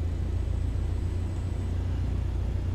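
A light aircraft engine in Microsoft Flight Simulator 2020 hums as a steady low drone, held at an even level throughout with no talk, while taxiing toward the runway at St. Augustine.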